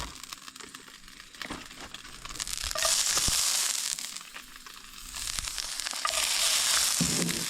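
Redclaw crayfish searing in a hot pan at a campsite, a loud, steady sizzle that swells and fades in waves, with crackling spatter and a few scrapes and knocks throughout.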